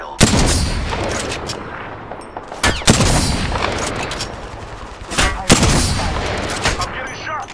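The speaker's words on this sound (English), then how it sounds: "I'm getting shot." Loud, dense gunfire in the video game Apex Legends as the player is hit, with sustained bursts of rapid shots and a few heavier booms, close and continuous throughout.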